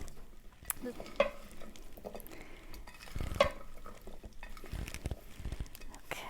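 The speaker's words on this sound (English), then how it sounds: "just stir it gently with those raspberries" Spoon gently stirring raspberries into a berry crumble mixture in a bowl, soft scraping and wet squelching strokes with a few light clinks, quiet and close with no talking.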